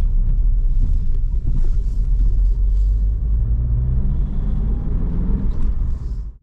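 A rare Cavalier Diplomat car's engine idles steadily after a brief misfire at startup. The low, loud rumble runs without a break, close by, with no voices.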